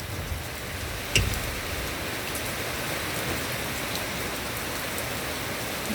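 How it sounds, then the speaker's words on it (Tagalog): Steady, dense rain falls during Typhoon Crising, a constant hiss of drops on surfaces with one brief sharper knock partway through and no voices. "Hallelujah, it's raining, man."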